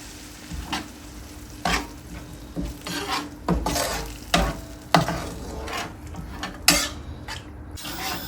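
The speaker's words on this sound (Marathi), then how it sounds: "आता आपण ह्याच्यामध्ये घालणार आहोत कोकोनट मिल्क" Coconut milk from a full can poured into sizzling masala for a lobster curry, stirred in a pan with repeated scraping strokes and crackling fry noise, close and fairly loud with no talking.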